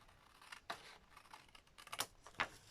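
Scissors snip through paper at an angle during a craft journaling session, a few quiet, separate crisp cuts alone with no talk.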